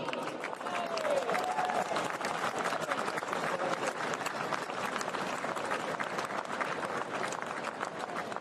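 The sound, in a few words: applause for the winning trainer at Royal Ascot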